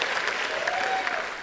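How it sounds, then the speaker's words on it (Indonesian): A brief burst of steady clapping from a crowd, dense and even throughout. "tepuk tangan untuk kita semua"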